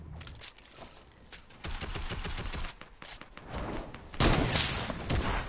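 Gunshots from a video game: rapid bursts of sharp, crackling fire in clustered volleys, fairly loud and dense, with a heavier burst near the end.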